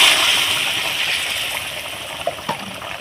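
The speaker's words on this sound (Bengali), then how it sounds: "এখানে আমি দুবাতি মতন উষ্ণ গরম জল এর মধ্যে দিয়ে দিলাম" Warm water pours into a pan of fried tangra fish curry with a loud, gushing splash that fades over a couple of seconds into a softer bubbling. A few small knocks follow near the end.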